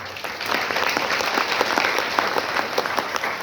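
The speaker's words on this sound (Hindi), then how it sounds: "आप अपने लिए एक बार जोरदार ताली दें" Loud audience applause at a business success event: a dense burst of many hands clapping together, close and sustained for a few seconds without speech.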